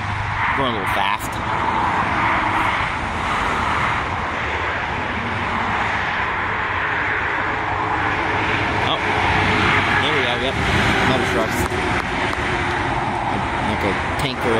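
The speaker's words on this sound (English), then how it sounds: "there's so many cars coming by here" Steady stream of road traffic rushing past close by on a warm sunny day, continuous broadband whoosh with passing vehicles, trucks among them, while a person talks over it.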